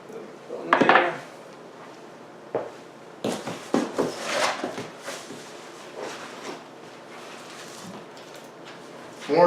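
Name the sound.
wooden desk drawer pieces handled during unboxing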